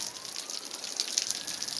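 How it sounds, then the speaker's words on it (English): Rain falls during a much-needed rainstorm, a steady soft hiss of drops with a few brighter patters, close and uninterrupted by voices. "here we got some rain."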